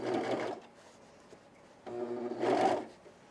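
A serger with its presser foot down and knife engaged stitches men's cargo shorts in two short, loud whirring runs. A quieter gap separates them, and the second run builds stronger.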